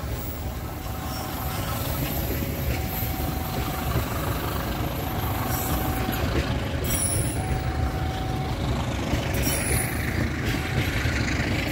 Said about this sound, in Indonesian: Inilah kereta api lokal Bandung Raya.